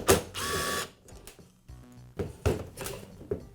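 Driver turning a number 25 Torx security screw out of a Milwaukee caulk gun handle: close ratcheting clicks and scraping metal in uneven bursts, with a whirring tone in the middle.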